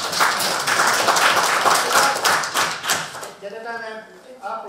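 Dense audience applause at a public presentation and closing discussion of a town's strategic master plan fills the first three seconds, then fades as a voice starts speaking.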